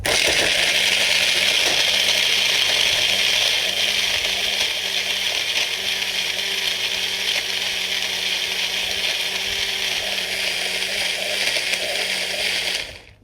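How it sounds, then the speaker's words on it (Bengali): Loud, steady whir of a blender mixing a thick milkshake for a child's breakfast, running continuously with a slight rattle before switching off at the end. "এবারে আমরা জল দিয়ে এটাকে সুন্দর করে ব্লেন্ডারে করে নিয়েছি"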